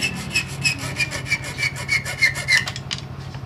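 Quick, rhythmic back-and-forth sawing through hard bone for a guitar nut and saddle, about a dozen close strokes in a steady rasping cadence before it stops.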